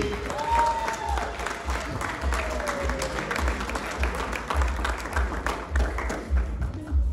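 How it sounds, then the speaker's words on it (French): Guests at a birthday celebration applaud in a sustained wash of clapping, fairly close and steady, with some background voices and a low rhythmic thump underneath. "Applaudissez s'il vous plaît."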